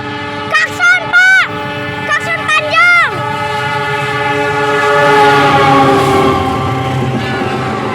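The Argo Wilis passenger train sounds its horn at Indihiang station, several loud, close blasts followed by one long sustained horn tone over the rumble of the passing train.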